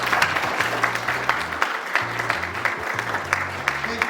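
An audience applauds at a talk on arts and wellness for prison re-entry, with dense, steady clapping close by and a low hum and faint voices underneath.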